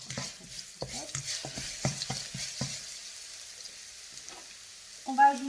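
Garlic cloves sizzle in hot olive oil in a wok over high heat, a steady frying hiss broken by repeated stirring scrapes and clacks, with a brief louder utensil clatter near the end.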